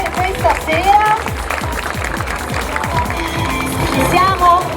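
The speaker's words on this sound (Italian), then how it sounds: "Un applauso alle nostre 15 concorrenti per questa sera" Audience applause for fifteen contestants at a beauty pageant stage event in Jesolo, a crowd clapping steadily under a loud host's voice and music, with babble around.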